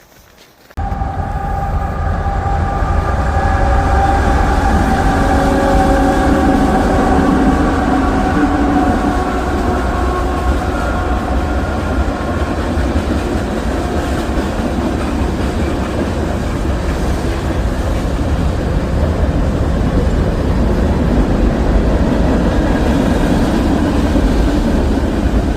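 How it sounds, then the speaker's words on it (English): A train rolls past on the tracks near a trail at Harper's Ferry, Maryland, starting abruptly and holding a loud, continuous rumble of wheels and rail cars with faint tonal squeals for over twenty seconds. "Just in time to catch a train going by."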